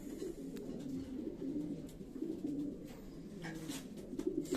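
Racing pigeons in a loft coo continuously after returning from a flight, several birds overlapping in a steady, close, low murmur with no talking.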